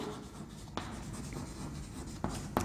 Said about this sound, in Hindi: मैं यहां लिख देता हूं टर्मेरिक